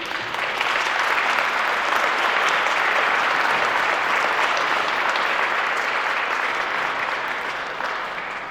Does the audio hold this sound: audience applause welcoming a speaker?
yes